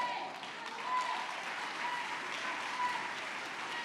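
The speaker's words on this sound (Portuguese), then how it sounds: "Vamos ver se o povo vai continuar aplaudindo" Church congregation applauding steadily at a moderate distance, a dense wash of clapping that swells and fades slightly across the span with no break.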